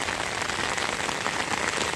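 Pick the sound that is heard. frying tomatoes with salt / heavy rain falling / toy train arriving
heavy rain falling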